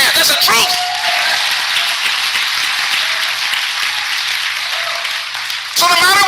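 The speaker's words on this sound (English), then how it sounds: "Clap your hands." Congregation clapping hands during a church sermon, a dense continuous patter of many hands filling the room, loud and sustained, with a voice briefly heard at the start and end.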